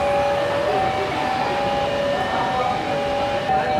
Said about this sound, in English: There's a lot of noise for a train to cross on.